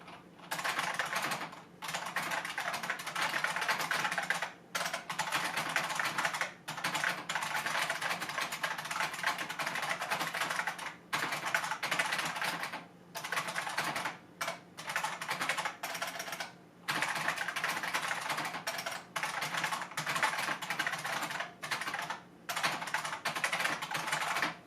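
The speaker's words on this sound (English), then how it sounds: "do another typing test here so that you guys can hear a little bit more about what it sounds like" Rapid, continuous clicking of keys on a Unicomp UltraClassic mechanical keyboard, close up, in fast bursts broken by brief pauses.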